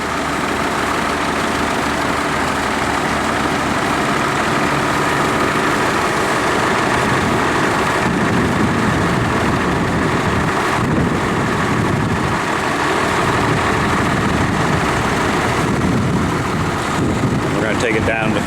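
A Ford 7000 tractor engine drives a slurry pump at a manure pit, a loud, steady low rumble that runs without a break throughout.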